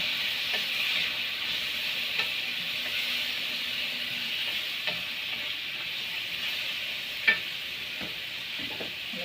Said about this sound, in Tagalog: Sibuyas na ang hinulog.